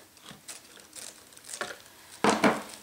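Decorative deco mesh ribbon being cut off for a centerpiece, heard as a few soft crinkling snips and rustles, ending in two louder, sharper crunching cuts close by.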